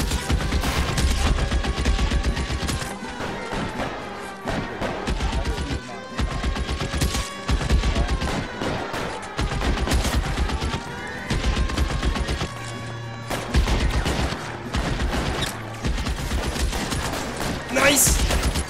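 Video game gunfire rattles in rapid repeated bursts and volleys, loud and close, with voices talking over the shooting throughout.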